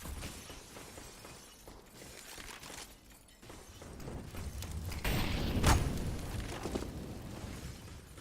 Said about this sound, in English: they were breaking the glass above the windows